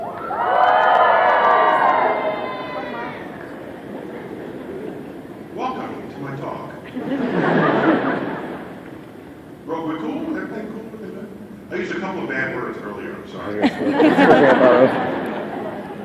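Middle schoolers in a university lecture audience scream and cheer in loud bursts, with crowd chatter between the outbursts and a speaker's voice at the start.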